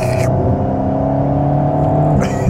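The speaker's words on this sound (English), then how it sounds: "You hear so much turbo sucking noise from the kind of back left." Alpine A110 (2021) turbocharged road car sucking in air, a steady whooshing intake whir over a constant engine drone that stays loud and close throughout, with no dump-valve hiss.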